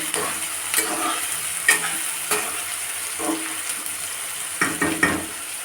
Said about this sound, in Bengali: পেঁয়াজটা আমার লাল লাল করে ভাজা হয়ে গেল